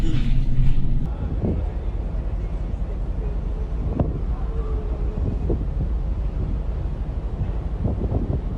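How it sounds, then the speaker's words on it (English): A large loaded cargo ship in a force-10 Beaufort storm on the Pacific Ocean: a constant, heavy rumble of wind buffeting the microphone, with sea and hull noise beneath it and a brief louder gust at the start. "A large loaded cargo ship sails in the Pacific Ocean through a 10-point Beaufort storm."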